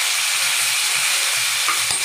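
Mustard seeds and cumin sizzle steadily in hot oil for a mushroom and potato dish, a dense continuous fry with faint low stirring thumps close by, no voices.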